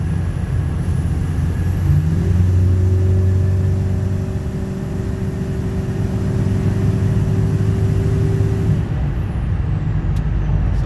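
A Ford 6.0 Powerstroke diesel engine held at steady revs, a loud continuous drone that rises in pitch partway through and then drops back, with no talk.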